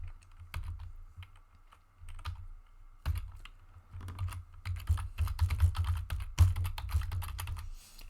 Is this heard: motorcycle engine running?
no